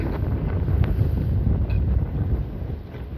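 Strong wind buffets a microphone on an island shore off fishing waters, a steady loud low roar with gusty rumble throughout and no voices.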